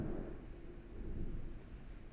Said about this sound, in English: Started thundering outside.